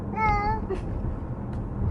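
Cat meowing from the back of a car on the way to the groomer, one drawn-out plaintive meow near the start followed by softer faint cries over low road rumble.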